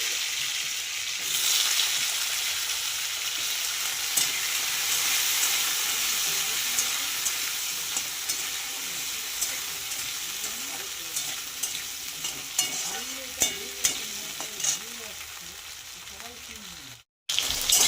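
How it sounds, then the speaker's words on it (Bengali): Cut potatoes frying in oil with a cumin and bay leaf tempering, giving a loud continuous sizzle with occasional clinks of a stirring spoon, close up. A brief dropout comes near the end. "জিরে আর তেজপাতা ফোড়ন দিয়ে দিয়েছি এবার দিয়ে দেবো আমি আলুগুলো কেটে রেখেছিলাম সেই আলু"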